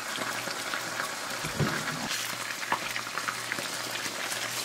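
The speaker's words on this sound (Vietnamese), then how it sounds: "Trở mặt và mình chiên cho thịt vàng xém như vậy là được nè" Pork frying in a pan until golden, a steady close sizzle and bubbling crackle of hot oil running throughout with small pops, no talk over it.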